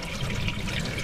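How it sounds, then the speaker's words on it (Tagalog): Water runs in a steady, close, hissing stream, like a tap or pour flowing without a break for about a second. "Tubig."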